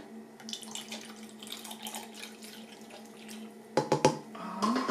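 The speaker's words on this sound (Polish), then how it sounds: "Dam tutaj octu. Octu dam 150 ml." Vinegar is poured from a container into a bowl of sliced zucchini and cucumber salad, a soft, trickling liquid stream up close that ends in a few louder splashy glugs.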